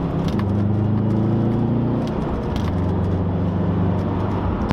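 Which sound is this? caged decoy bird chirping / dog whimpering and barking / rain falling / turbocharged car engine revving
turbocharged car engine revving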